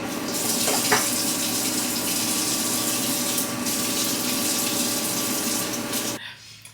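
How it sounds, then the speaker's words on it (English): Steady running tap water pours at close range for about six seconds while hands are washed, then cuts off abruptly near the end. "wash my hands and finish"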